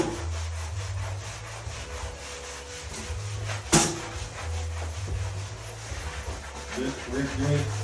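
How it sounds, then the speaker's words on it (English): Steady, rhythmic scrubbing of bathroom tile during a renovation, a rough back-and-forth rubbing that runs throughout at close range, with one sharp knock near the middle and voices talking faintly in the background. "You gotta do a ton of scrubbing"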